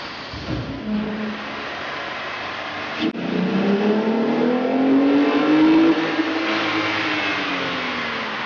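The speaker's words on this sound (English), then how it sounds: "we ran the vehicle on the dyno to test the sound comparison versus the stock intake" A car engine fitted with a K&N aftermarket air intake revs on a dyno, climbing steadily in pitch to a loud sustained peak, then easing off while still running, with no talk.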